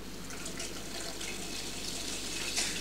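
Tap water runs steadily into a cooking pot, filling it with about 4.6 litres for boiling carrots; a continuous broadband hiss and splash stays even throughout, close and moderately loud, with no talking.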